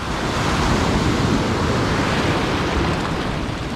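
Small one-to-two-foot ocean waves break continuously at a La Jolla surf launch, a loud, steady wash of surf with wind rumble and no pauses.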